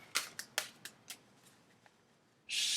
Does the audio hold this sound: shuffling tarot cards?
yes